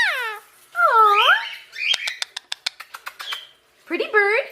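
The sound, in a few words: parrot vocalizing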